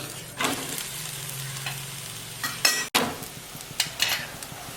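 Thalipeeth, a multigrain flatbread, frying in oil on a pan, with a steady close sizzle, scraping stirs, a brief dropout and a clattering flip before the frying resumes alone with no talk.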